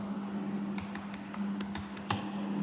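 Code being typed on a computer keyboard, a handful of quick, irregular key clicks close by over a low steady hum, with no voice.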